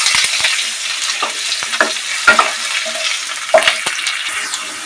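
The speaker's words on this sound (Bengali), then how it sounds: "এবার এর মধ্যে দিয়ে দেবো আগে থেকে কেটে রাখা আলুটা। ভালো করে ভেজে নিতে হবে।" Diced potatoes frying in a pan for a Bengali banana-flower dish, a loud dense sizzle broken by several sharp scrapes and knocks of a spatula, close up and without talk.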